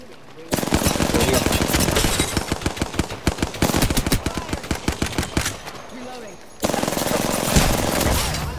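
Rapid DMR rifle fire in the video game Apex Legends, a dense string of sharp, loud shots with brief pauses, then a final burst of sustained gunfire.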